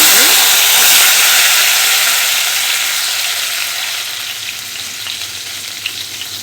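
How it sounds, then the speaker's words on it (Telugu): Mustard seeds, cumin and fenugreek sizzle loudly in hot oil for a village-style Rayalaseema brinjal curry, a bright continuous frying hiss that slowly eases as it settles. "ఆయిల్ వేడెక్కింది కదండి, ఆవాలు జీలకర్ర వేసానండి, మేతి వేస్తున్నానండి"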